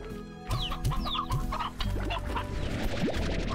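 Hens in Slime Rancher cluck and squawk close by in short repeated bursts, several birds overlapping in a busy, fluttering chorus.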